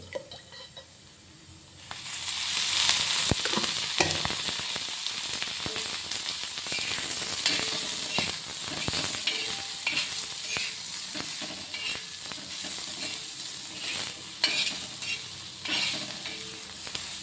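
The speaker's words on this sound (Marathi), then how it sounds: "सगळं भाजून घ्यायचं मस्त थोडंसं तेल टाकून भाजायचं म्हणजे चांगलं भाजते" Spices roasting in a little oil for mutton curry begin with a loud rush of sizzling that stays steady, broken by scraping stirs and occasional crackles, close up with no talking.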